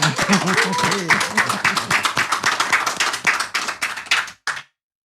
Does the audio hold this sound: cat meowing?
no